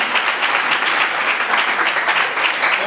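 A crowd applauds at a live comedy show in Uvira, a dense steady wash of many hands clapping, loud and continuous throughout with no voices over it.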